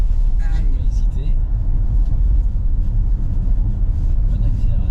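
Ford Mustang Mach-E electric car accelerating hard on snow and ice at Flaine, a steady loud low rumble of tyres and road noise throughout, with people talking over it.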